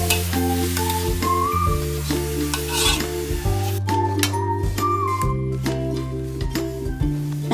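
Grated coconut meat cooked with sugar in a pan gives a continuous stirring, scraping sizzle with light clinks, close and steady throughout while music plays underneath.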